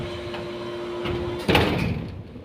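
A door slides and shuts with a single thud near the middle, following a steady background hum, then the room settles with lingering rustle.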